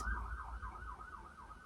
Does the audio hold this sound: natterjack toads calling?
no